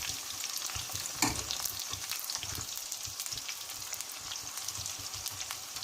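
Onions and green chillies frying and stirred in a pan, a constant close sizzle with repeated scraping strokes and one sharper knock of the utensil.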